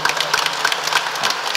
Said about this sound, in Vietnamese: Xin chúng ta cũng đón tiếp bằng một tràng pháo tay nữa.